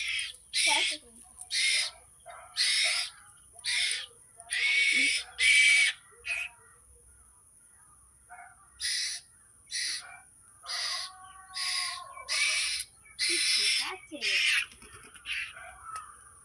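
A pet bird that has left its cage gives loud, repeated squawking calls in regular bursts, pauses briefly, then resumes its rhythmic calling close by.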